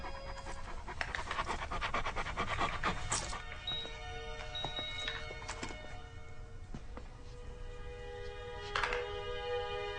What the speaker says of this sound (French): Nikki, la chienne du colonel.